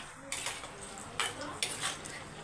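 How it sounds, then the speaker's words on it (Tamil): Brinjal (eggplant) being sautéed in oil in a pan, with a low background sizzle broken by a few sharp clanks of a ladle stirring against the metal pan. "கத்திரிக்காய் பாருங்கள் அந்த எண்ணெயிலே நீங்கள் வதக்கி எடுத்துக்கோங்க"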